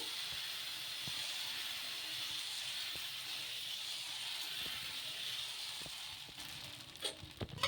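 Oats dosa batter sizzles softly as it is spread on a hot pan, a faint continuous hiss with scattered light scraping ticks and a few louder clicks near the end.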